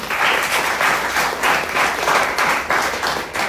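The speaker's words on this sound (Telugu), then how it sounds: "గట్టి చప్పట్లు కొట్టండి" A church congregation claps hard in a steady, rhythmic beat, loud and close, with the pulses of hand claps repeating evenly through the whole stretch and no speech over it.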